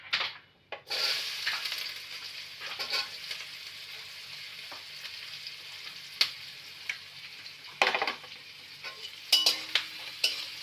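Spring onion bulbs frying in melted butter for chicken soup, a soft continuous sizzle with occasional stirring taps and clicks of a utensil against the pan, fairly quiet and without speech.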